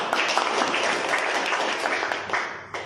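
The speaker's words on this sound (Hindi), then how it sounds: "उनके सम्मान में एक बार जोरदार तालियां चाहूंगी।" An audience at a seminar-style presentation gives a strong round of applause, a dense, steady clapping that fills the room throughout, with a sharp clap near the end.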